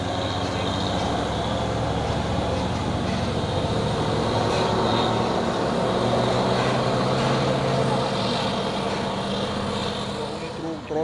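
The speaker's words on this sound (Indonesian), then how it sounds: "Ini truk tronton Fuso Oren 6x4 HD nih ya." An orange Fuso 6x4 HD tronton heavy truck climbs a hill with its engine making a loud, continuous low rumble and roar. The sound stays close and steady, with voices faintly underneath.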